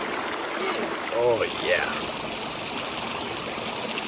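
A creek flows steadily in Toiyabe National Forest, a constant close rush of water filling the scene while a person speaks briefly and a bird or two chirps faintly.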